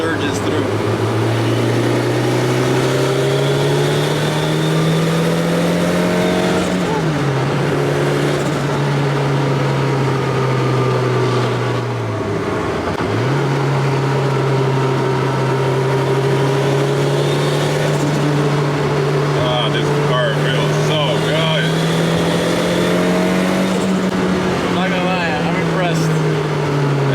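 A turbocharged Ford RS200 Group B rally car engine drones loudly and steadily, its pitch climbing as it pulls through the gears, with two brief dips at the shifts and a voice talking over it.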